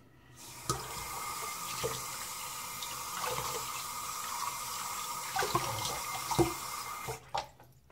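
Tap water runs steadily into a sink while tallow shaving lather is rinsed out, a continuous splashing flow with a few clunks before it shuts off at the end.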